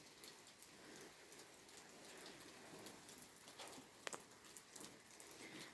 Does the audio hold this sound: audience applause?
no